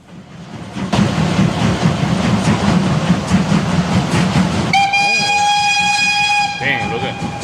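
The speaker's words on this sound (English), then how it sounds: "Asia was hauled by a pair of powerful Kriegslok or war locomotives" Göring's heavy 15-carriage train hauled by a pair of Kriegslok war locomotives: a loud rumbling, clattering run, then a sustained steam whistle blast near the end.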